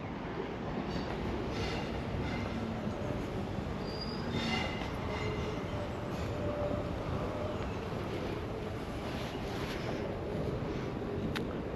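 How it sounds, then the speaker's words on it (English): A train in Edinburgh, below the National Gallery, rumbles and clatters on rails with a steady, continuous roar, a few brief metallic squeals rising above it; no one speaks. "That's all that clickety-clackety noise you hear."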